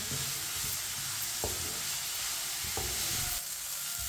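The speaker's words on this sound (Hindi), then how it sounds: "इसे इसी तरह चम्मच चलाते हुए पकाएं 3 मिनट के लिए।" Chicken cooks over medium heat, giving a continuous close sizzle while a spoon stirs it, with a couple of brief scraping knocks against the pan.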